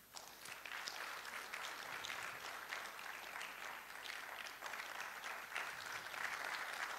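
Audience clapping fills a hall at a Ghanaian medical college's annual general and scientific meeting, a sustained even patter of many hands at a fairly faint level, with no voices.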